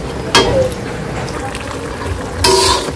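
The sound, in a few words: spice paste being sautéed and stirred in a pan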